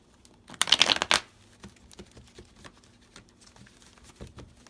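A quick riffle shuffle of a tarot deck makes a brief, crisp burst, followed by soft taps and light handling sounds.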